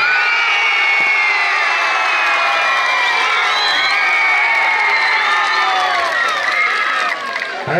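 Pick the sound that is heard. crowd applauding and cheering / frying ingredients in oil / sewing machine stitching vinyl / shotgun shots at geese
crowd applauding and cheering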